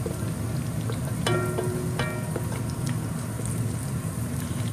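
Sliced onions for biryani beresta frying steadily in hot oil, a continuous close sizzle with a few faint clinks of a utensil against the pot.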